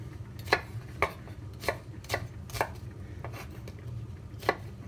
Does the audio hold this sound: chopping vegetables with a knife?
yes